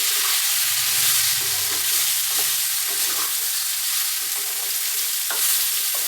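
Small pieces of bottle gourd and potato frying in a pan, a loud continuous sizzle with occasional soft stirring scrapes and knocks throughout, no speech.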